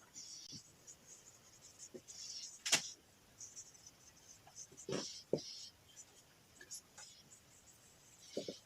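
A pen writes on paper in short, soft scratching strokes with pauses between them. It sounds quiet and close, and faint murmuring sits under it.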